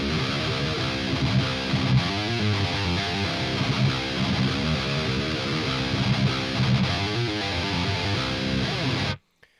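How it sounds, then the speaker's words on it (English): Heavily distorted metal electric guitar riff in C standard tuning, played loud and fast with dense chugging palm-muted notes and quick runs, continuous for about nine seconds before stopping abruptly. "the riff I've come up with is something that sounds like this"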